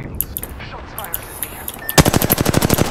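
Gunfire in Apex Legends: after scattered faint shots and clatter, a loud, rapid automatic burst breaks out and rattles on steadily with evenly spaced cracks to the end.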